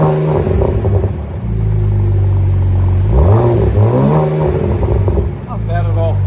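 BMW Z4 with a 3.0-litre inline-six and Vibrant resonators, its exhaust idling with a deep drone, then a loud rising and falling rev mid-clip and a second brief rev near the end, heard up close.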